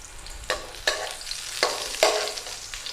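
Onions fry in a reused nonstick frying pan that has lost its coating, with a steady sizzle broken by four sharp scraping strokes of stirring, close and fairly loud.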